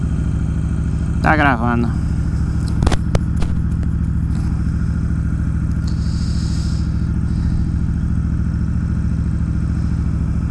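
A Honda Sabre custom motorcycle idles fast and steady up close, its engine note holding a constant high rev throughout while a person briefly speaks over it.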